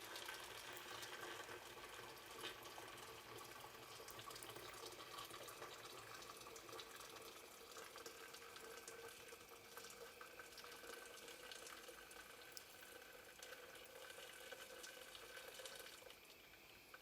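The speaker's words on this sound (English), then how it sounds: "Once the water has boiled, we're going to pour it into the pitcher." Freshly boiled water pours steadily into a pitcher for iced tea, a continuous quiet splashing stream heard alone for the whole stretch.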